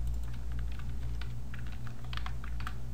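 Computer keyboard typed on while entering PHP code, a quick scatter of close, light keystrokes over a steady low electrical hum.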